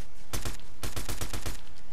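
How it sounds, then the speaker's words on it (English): Rapid automatic gunfire in an online shooter game, with two tight bursts of sharp, loud cracks fired in quick succession and a short gap between them. "Somebody's shooting back at me."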